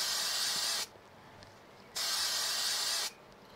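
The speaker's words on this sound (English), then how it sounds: "so a little bit more spray glue" Spray glue hisses from a can onto craft card in two steady bursts of about a second each, close and fairly loud, with quiet gaps between.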